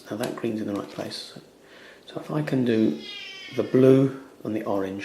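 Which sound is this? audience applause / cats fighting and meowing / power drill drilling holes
cats fighting and meowing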